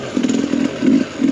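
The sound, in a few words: 2022 Sherco 300SE two-stroke dirt bike engine riding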